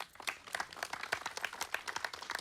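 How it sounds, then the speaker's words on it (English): Applause from an audience follows a Mohiniyattam dance performance: a short burst of dense, crisp hand clapping from a crowd, with no voices over it. "Let's give her another round of applause."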